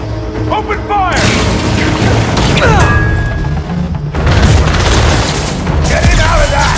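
Heavy gunfire and explosive booms erupt in a Spider-Man 2 video game battle, loud dense bursts layered with mechanical effects and music, with brief game voices over the action.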